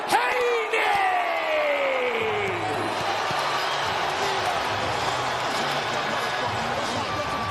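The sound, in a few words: sold-out boxing arena crowd buzzing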